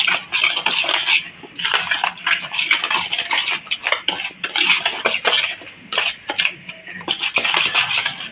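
A spoon stirs patra batter of gram flour and lemon juice in a bowl, clinking and scraping against the sides in quick repeated strokes. The sound is close and steady, with brief pauses, and no one speaks.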